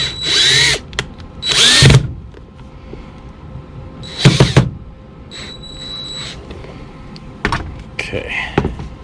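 A power drill bores into the broken heel of a Brian Atwood high-heel shoe in several short, loud bursts separated by pauses, with quieter handling clatter in between.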